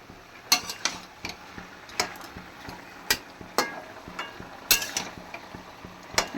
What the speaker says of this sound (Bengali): এই যে এক কড়াই সবজি রান্না করছি,